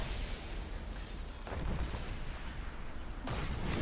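A tank gun in War Thunder ground battle fires from behind. The dense, booming blast lands over a heavy engine rumble and continuous battle noise, and a second sharp report follows near the end.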